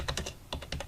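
Fingers tap quickly on a computer keyboard, two short clusters of crisp clicks separated by a brief pause, close and fairly quiet with no talking.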